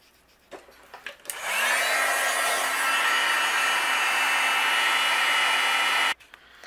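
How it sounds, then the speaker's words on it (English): A heat gun drying a paste-colored craft panel blows a loud, steady broadband whoosh with a faint whine, starting about a second and a half in and cutting off near six seconds, with light handling noises before and after. "I did have to help it along the way with my heat gun"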